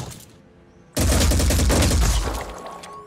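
Gunfire in Phoenix Point hits after a quiet moment as a loud, dense burst of rapid shots that fades toward the end.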